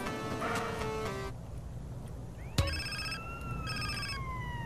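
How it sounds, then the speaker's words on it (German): Telephone ringing in the video game GTA San Andreas: an electronic ring burst, a pause, a sharp click, then a rising tone followed by further ringing, fairly faint over quiet game ambience. "Oh, Telefon."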